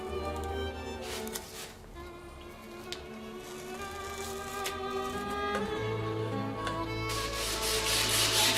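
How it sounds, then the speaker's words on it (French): The blocks and ribs of a Stradivarius-model violin are sanded level, a steady close rasping rub that keeps on without pause and grows slightly louder near the end. "Mise à niveau des tasseaux et éclisses par ponçage."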